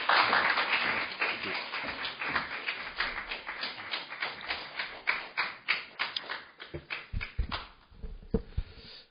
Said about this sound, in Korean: 뜨거운 박수로 맞이해주시면 감사하겠습니다